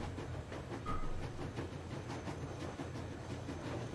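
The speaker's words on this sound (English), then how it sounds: "So I can explore the train while it's moving." Rumbling, rattling motion of a moving train in Metro Exodus, a steady broadband roll with faint clatter and hiss running continuously at moderate level, no voices.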